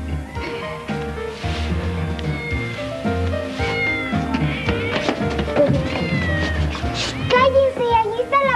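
Cartoon cat meowing repeatedly in an animated children's show, rising yowls over a busy soundtrack of music and effects, with voices talking around it.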